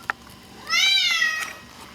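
Dexter, a pet cat of about 13, lets out one clear, close meow that rises and falls over roughly a second, with a small tap just before it in an otherwise quiet room.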